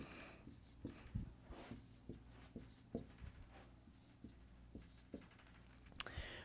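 A marker squeaks and taps across a classroom board while electron dots are drawn in, a run of short quiet strokes in an irregular rhythm, close by with no talk.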